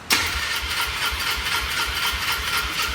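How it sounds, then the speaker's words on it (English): An old four-wheeler ATV, parked for twelve years and fitted with a new battery, cranks steadily on its starter: a rapid rhythmic chugging churn with an even beat under a hissy wash, close up and continuous, not catching. "So it should be cranking fast, and it should start."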